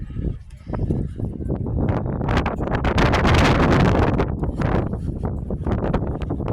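Strong wind at the Château de Collioure buffets the microphone in a continuous, loud roar with gusty swells, rumbling low throughout.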